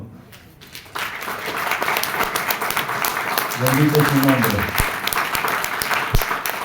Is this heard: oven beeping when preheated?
no